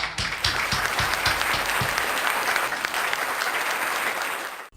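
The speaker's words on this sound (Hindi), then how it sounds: "कविता समाप्त हो गई, तालियां बजा दीजिए।" Audience applause at a Hindi kavi sammelan poetry gathering right after a humorous poem ends, a dense, steady burst of many hands clapping that holds loud for several seconds before cutting off.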